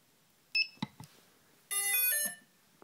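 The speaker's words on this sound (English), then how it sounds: "you'll hear a beep." A few soft clicks, then an electronic beep tone from a Lotusrc T380 flight controller that steps through several pitches before cutting off, in a quiet room.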